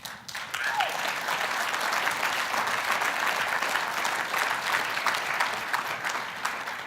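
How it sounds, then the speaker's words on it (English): An audience breaks into sustained applause, a dense wash of many hands clapping that starts quickly and carries on evenly at moderate volume, with a brief voice near the start. "you're really clapping for them because they helped me do that"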